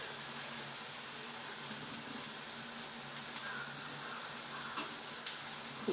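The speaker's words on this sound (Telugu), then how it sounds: "ఇప్పుడు ఈ మిశ్రమాన్ని పచ్చివాసన పోయేంత వరకు బెండకాయ ఫ్రైలో వేపుకుందాం." Okra frying in a pan with coconut chili powder stirred in, a steady close sizzle with faint stirring scrapes and occasional small clinks.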